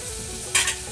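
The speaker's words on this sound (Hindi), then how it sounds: "अभी जब प्याज फ्राई हो रहा है" Onion frying with salt in a pressure cooker for a chicken dish, a steady low sizzle with a brief louder burst of stirring midway, close and alone without talk.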